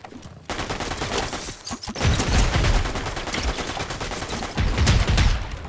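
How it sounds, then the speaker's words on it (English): Rapid gunfire bursts in a Fortnite solo match, dense overlapping shots with heavier volleys near the start, middle and end, loud and steady throughout, with no talk. "I want to chase those gunshots"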